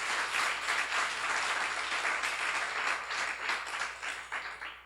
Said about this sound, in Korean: 박수 한번 세게 쳐요